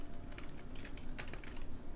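Someone types on a computer keyboard while building a game in Roblox Studio, a steady stream of faint key clicks with brief pauses over soft background hiss.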